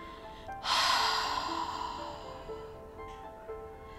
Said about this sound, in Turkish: Boşaltın ağızdan sesli bir şekilde.